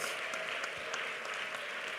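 A church congregation at an IPC prayer centre claps hands together, a dense, steady wash of applause heard faintly at a distance, with no talk over it.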